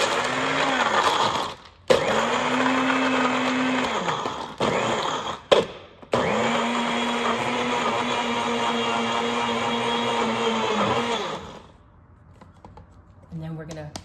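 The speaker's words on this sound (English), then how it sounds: "I'm gonna put this in my NutriBullet" A NutriBullet blender grinds dry Nilla wafers and Oreo thins in loud, whirring bursts with short pauses between them. The motor then cuts out, leaving a quieter tail with faint handling noises.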